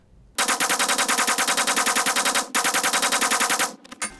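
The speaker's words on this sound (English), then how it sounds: "if I put a full clip of shotgun bullets into this thing" Rapid shotgun fire in the video game 7 Days to Die, a loud continuous string of evenly spaced blasts, briefly broken by a short pause, then resuming before trailing off.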